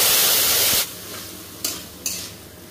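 Chopped onion sizzles loudly in hot oil, stirred in a pan, then the frying drops to a softer crackle broken by two short scraping stirs.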